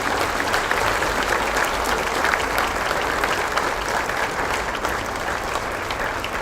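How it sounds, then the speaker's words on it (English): Graduates at a Faithtech graduation ceremony applaud one another in a steady, dense burst of clapping that fills a large room, loud and continuous throughout with no speech over it. "let's applaud one another."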